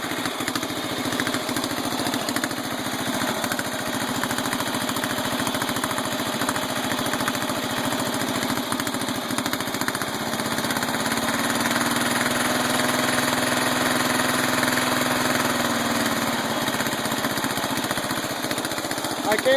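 A small engine idles and runs steadily after repair of a stuck, high-revving throttle, a continuous loud mechanical drone with a slight shift in pitch partway through and no talk.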